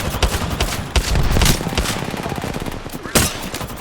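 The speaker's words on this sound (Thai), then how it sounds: "ยิงแล้วไม่โดนเลย" Rapid automatic gunfire in the video game Apex Legends: loud, close bursts of shots in quick succession, with a few sharper, heavier reports standing out.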